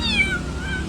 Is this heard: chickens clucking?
no